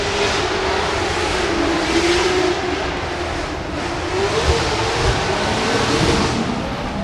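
Mustang race cars making upwards of 1,200 horsepower run in tandem on a track. A steady, roaring engine drone slowly rises and falls in pitch, continuous and fairly loud, with no talking.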